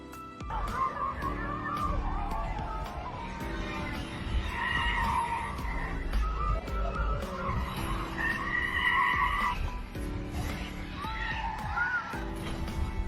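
A car skids during a near crash in a film scene, a long, loud tyre screech that rises and falls with dramatic music and sound effects layered around it.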